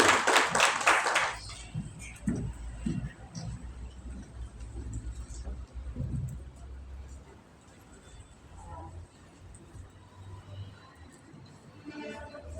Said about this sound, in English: clap for her as she comes